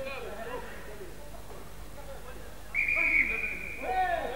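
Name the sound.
referee's whistle at a rugby league match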